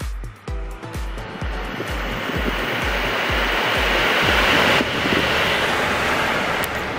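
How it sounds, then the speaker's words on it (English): A room air conditioner running close by, a loud steady broadband whoosh that stays even for several seconds, with a few low thumps near the start. "if I have the AC on, it will sound like this to you guys"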